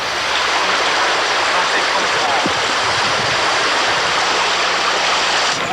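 A river in San Bartolo, Nicaragua rushes steadily as a loud, continuous broadband wash of flowing water close by, unbroken throughout with no clear voices.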